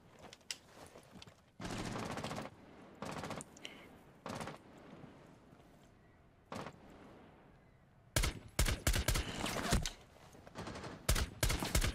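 Bursts of rapid gunfire in Rainbow Six Siege crack out in several volleys, with quieter pauses between and a dense flurry of shots near the end.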